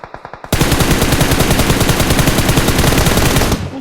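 Automatic gunfire in the video game PUBG: a few separate loud shots, then a dense, continuous burst of rapid fire close by that lasts about three seconds before cutting off.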